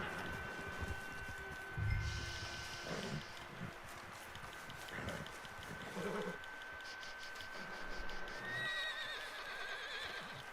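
A horse in a video game whinnies a few times amid clopping hooves and a steady electronic hum, with short bursts of game-like ambient noise.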